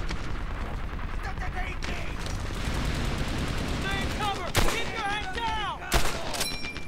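Minigun fire rattles continuously in Medal of Honor Airborne, a dense rapid stream of shots with two louder booming blasts near the end, while a voice talks over the battle noise.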